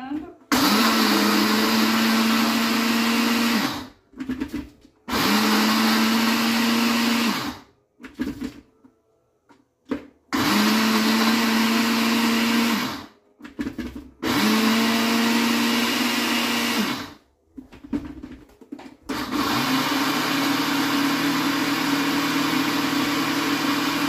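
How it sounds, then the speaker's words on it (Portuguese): A kitchen blender grinds eggshells and coffee grounds in several loud bursts of steady whirring motor drone, each lasting a few seconds, separated by short pauses and brief quieter spells. "Ser com bastante cuidado para não queimar, né, o liquidificador."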